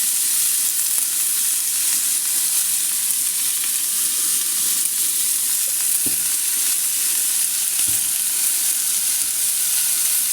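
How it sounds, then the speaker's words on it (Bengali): Food frying in a pan over a gas stove while being stirred, making a loud, steady sizzle with occasional scraping stir strokes, and no one speaking. "এবার একটু নাড়াচাড়া করবো।"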